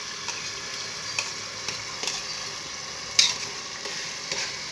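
Tomatoes fry in a pan, a soft steady sizzle with light stirring clicks and one sharper tap, heard close and quiet with no talking.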